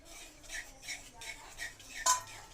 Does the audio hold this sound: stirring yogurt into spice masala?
yes